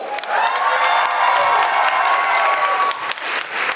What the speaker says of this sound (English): I really want to hear you clap and cheer